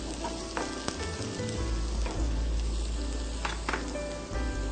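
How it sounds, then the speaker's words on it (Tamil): Onion sautés in a pan after curry leaves are fried, a dense, even sizzle close by, broken by a few sharp clicks and taps of stirring. "இதை வந்துட்டு ஃப்ரை பண்ணிட்டு ஆனியன் போட்டு நல்லா வதக்குறீங்க"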